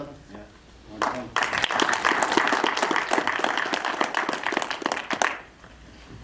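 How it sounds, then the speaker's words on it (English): An audience at a film premiere Q&A breaks into dense, lively applause after a brief quiet moment. The clapping holds steady for about four seconds, then tapers off abruptly. "Another round of applause for Edgar."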